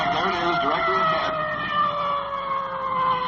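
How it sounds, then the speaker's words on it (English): A wailing emergency vehicle siren at a night road accident scene rises and falls steadily, loud and close, with a faint voice underneath. "There goes our siren for the intersection."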